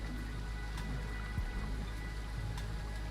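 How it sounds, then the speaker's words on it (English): Rain in the survival settlement game Endzone A World Apart, a steady patter of falling rain with a few scattered louder drops over a low rumble, no voices. "Oh, it's raining."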